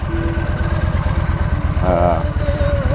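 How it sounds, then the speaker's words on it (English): A 2014 Yamaha V-Star 1300 Deluxe motorcycle engine runs close by with a steady, pulsing low-pitched idle thump, while a voice speaks briefly over it. "This is my 2014 V-Star 1300 Deluxe."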